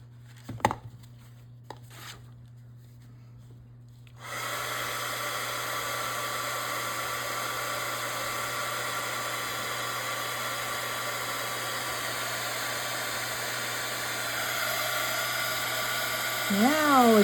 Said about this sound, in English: let me get my heat gun again